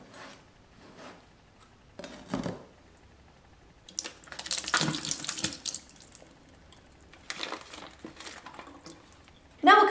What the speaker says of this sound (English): open up the package and drain the water from inside